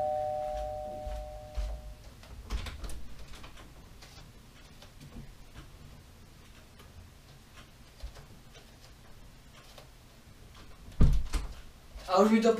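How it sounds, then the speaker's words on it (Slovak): A doorbell chimes briefly at the start as a courier arrives with a parcel, followed by quieter indoor rustling and a few knocks or handling sounds near the end. "Počkajte, niekto mi zvoní."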